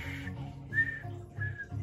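A weak, breathy whistle gives a few short wavering notes with pauses between them, over low background hum.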